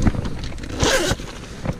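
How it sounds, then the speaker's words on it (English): Zipper on the side pocket of a backpack-style food delivery bag pulled open in a quick rasping run, close and clear, with a few handling rustles around it. "And then there's another zipper on the side."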